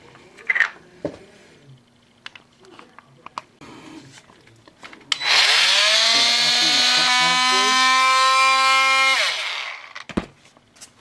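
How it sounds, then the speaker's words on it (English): A tool cuts off a toilet supply pipe during a toilet installation: after quiet handling noises, a loud, close whine rises in pitch and holds steady for about four seconds, then stops, followed by a sharp clatter. "just use a hacksaw or a tool just to cut off"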